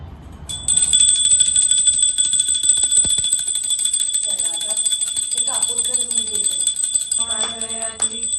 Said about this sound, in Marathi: घंटी लाव. घंटी वाजव.